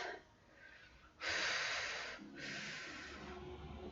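Deep breathing during yoga, a slow audible inhale followed by a longer airy exhale close to the microphone, quiet otherwise.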